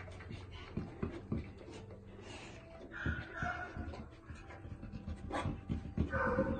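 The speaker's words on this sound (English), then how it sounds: "I love the snoring." A shelter dog snores nearby in quiet, rhythmic breathy snorts and wheezes, faint and repeated at an uneven pace.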